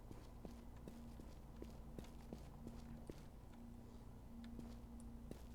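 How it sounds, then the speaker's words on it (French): Footsteps in the video game Infestation: Survivor Stories, evenly spaced soft thuds about twice a second over a steady low hum and faint background noise. "En fait il y a des bruits de pas."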